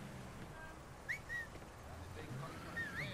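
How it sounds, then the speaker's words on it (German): A character in the video game Mafia 3 whistles in several short, faint rising and falling notes over quiet ambient background noise, with a voice talking underneath. "Ich pfeife schon wie ein Verrückter, hier."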